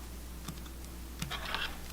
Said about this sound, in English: I can just cut these tabs off with the scissors.